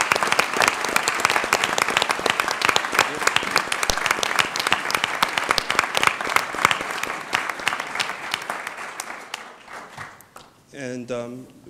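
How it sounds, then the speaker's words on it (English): An audience at a board of trustees meeting applauds steadily with dense clapping that fades near the end, followed by a brief voice. "can we give them a round of applause"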